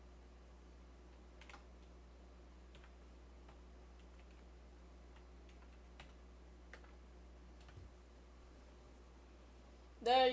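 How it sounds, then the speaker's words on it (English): Someone types on a computer keyboard with faint, sparse, irregular key taps over a steady low hum, ending in a brief louder rustle. "I'll type it in chat for you."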